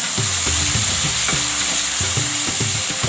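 Okra and tomatoes frying together in a pan for bhindi masala, a loud close sizzle overlaid with rapid rhythmic scraping strokes of a spoon stirring the vegetables.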